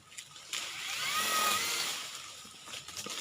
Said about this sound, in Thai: เป็นเลื่อยเลื่อยแบตเตอรี่ครับ อืมเลื่อยแบตเตอรี่นะครับ